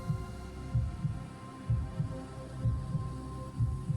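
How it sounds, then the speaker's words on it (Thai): A slow, deep heartbeat thumps in steady double pulses over a low droning hum, with no voices. "ความเงียบนั้น น่ากลัวถูกทำลายลงด้วยเสียงหัวใจของพวกเขาเอง"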